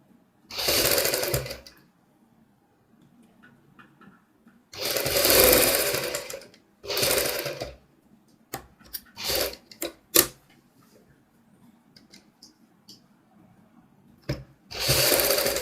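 Sewing machine stitching a double piping neck on a garment, in several loud bursts of rapid whirring separated by pauses and short stop-start runs, close and clear with no talk.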